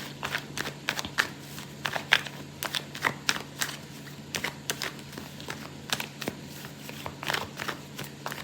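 Tarot cards are shuffled by hand in a quiet room, a series of soft, brief riffling bursts repeating irregularly every second or so over a low steady hum.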